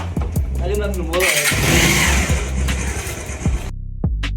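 A motorcycle engine cranks and catches, then runs with a loud mid-pitched idle nearby before cutting out, while people talk over it.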